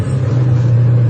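A Ferrari 400i engine, still cold, idles right after starting up, a steady loud low rumble heard close with no talking.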